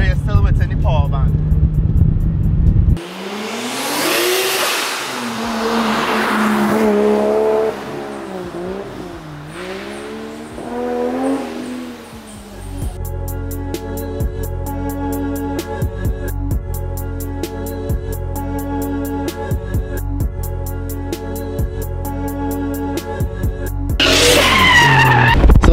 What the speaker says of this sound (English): Basically a rev matching now, so you just heel toe and you know you're still within the power band.